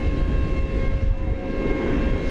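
Aircraft engine air start whine drifting over from the UPS ramp at DFW Airport at night, a steady tonal whine held over a broad low rumble, continuous and moderately loud throughout.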